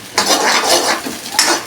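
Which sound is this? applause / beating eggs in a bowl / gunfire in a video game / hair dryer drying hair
beating eggs in a bowl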